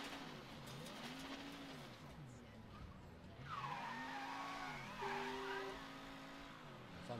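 A car in the Mafia III video game drives with a wavering engine tone and tires squealing through turns, fairly faint and steady, with a short high skid whine near the end.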